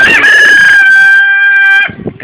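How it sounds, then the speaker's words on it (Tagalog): A rooster crows loudly and close in one long sustained call that cuts off abruptly, followed by a few short clucks from the fowl, with no talking over it. "Nakikita nyo na lumalapit na naman ang isang manok."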